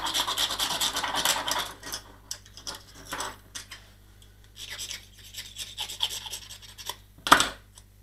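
Knife or sandpaper scraping paint off the nose of a crashed foam model plane, in bursts of rough rasping strokes separated by pauses, close and fairly loud.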